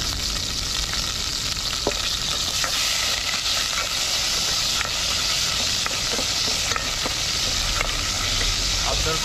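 Garlic sizzles and crackles steadily in hot oil while frying outdoors, a loud, continuous hiss broken by occasional stirring clicks, with no talk.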